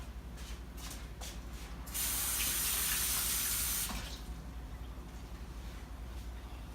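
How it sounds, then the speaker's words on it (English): Tap water runs into a sink while a hand is rinsed, a steady spray that swells louder for about two seconds in the middle before easing back to a softer trickle, with no talking. "I gotta rinse off my hand again."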